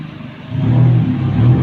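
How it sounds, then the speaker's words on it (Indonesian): A car passes close by at Fort Rotterdam on a drizzly day, its engine rumble swelling from quiet to loud and holding near the end of the short passage. "Ada mobil dulu mau lewat."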